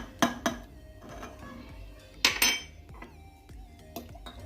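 Ingredients for a Hatay-style mixed dolma filling, including tomato, pepper paste, salt, pomegranate molasses and olive oil, are stirred in a bowl with a spoon. Sharp clinks and scrapes of metal on the bowl come in a few quick clusters at close range.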